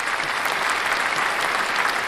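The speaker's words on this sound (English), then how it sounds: "Just give another clap for that." A short, steady burst of dense applause, many hands clapping at an even level with no voices on top.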